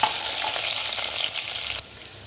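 Whole spices sizzling in hot oil in a pan while making vegetable pulao, a steady bright crackling fry close up that cuts down sharply near the end.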